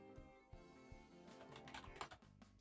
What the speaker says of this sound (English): it's because I'm typing without selecting.